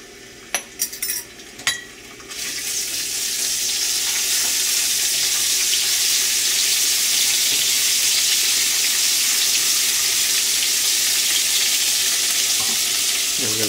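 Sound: garlic and ginger frying in hot oil

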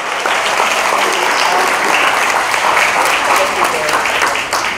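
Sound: applause

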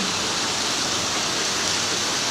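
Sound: rain falling in Korat

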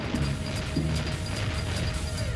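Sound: cartoon smashing and crashing sound effect

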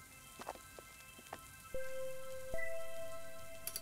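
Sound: rain in the video game Garden Paw

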